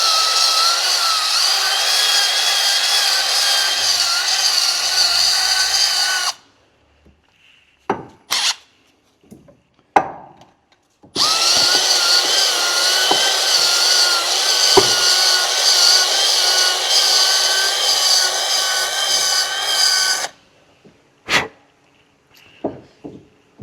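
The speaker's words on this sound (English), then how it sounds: "drill bit with a bit of emery cloth on it, a bit of emery tape on it, sandpaper" A drill spins a bit wrapped in emery cloth inside the brake caliper pin bore of a Mercedes Sprinter, a loud harsh whirring rasp in two long bursts separated by quiet gaps and short clicks.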